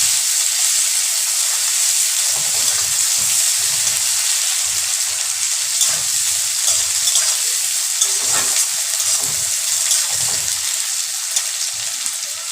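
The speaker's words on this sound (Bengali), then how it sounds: "পেঁয়াজটা দেওয়ার পরে একটু নেড়ে চেড়ে নেব।" Onions fry in oil in a pan for a Bengali fish masala curry while they are stirred. A continuous close sizzle runs throughout, broken by soft scraping stirs at irregular moments, and no one talks.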